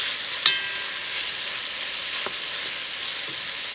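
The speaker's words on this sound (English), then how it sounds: "Toss that meat in the pan, give it a stir, and quickly brown it on both sides if you can." Beef for stroganoff browning in a hot pan, a continuous bright hiss of sizzling with a couple of faint clicks, close and steady, no one talking.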